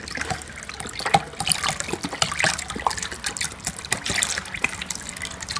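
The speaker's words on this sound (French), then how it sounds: "Vous prenez le jus d'ananas." Pineapple juice poured into a container while making punch, a light irregular trickling and splashing of liquid, fairly faint and close, with small bursts and drips throughout.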